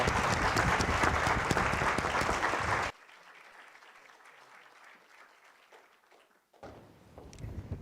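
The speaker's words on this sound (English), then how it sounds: "Please join me in giving a warm round of applause to the University of Nairobi Choir." Loud applause from a conference audience for a university choir fills the first three seconds, then cuts off abruptly, leaving quiet room tone with a brief return of low noise at the end.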